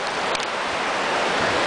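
A river rushes through Lynn Canyon in a steady, broadband roar of flowing water, close and continuous with no voices over it.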